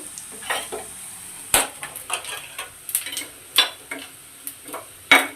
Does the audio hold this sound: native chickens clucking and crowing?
no